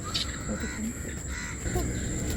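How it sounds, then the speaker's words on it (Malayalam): Crows caw at dusk around the Poovar resort as birds return to roost, a short call standing over a faint, steady background hum. "കിളികളെല്ലാം ഇങ്ങനെ കൂടണിയുന്ന സമയം"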